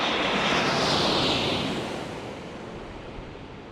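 A Japan Airlines airliner landing at San Diego International Airport, a broad roaring jet rush that peaks early and then gradually fades as it passes, moderately loud and unaccompanied by talk.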